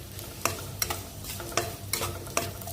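Chopped onion lightly frying in a pan, a soft steady sizzle with a handful of sharp spatula scrapes recurring every half second or so, close but not loud.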